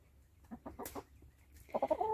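Homestead chickens cluck softly in a flock, a few short low clucks followed by a louder burst of higher, rapid clucking close by.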